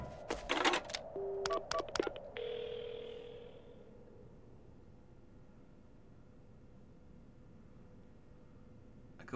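Telephone tones in a horror mystery game as an ambulance is called: a few sharp keypad beeps and clicks up front, then a steady dial-type tone for a couple of seconds before fading into quiet room hiss.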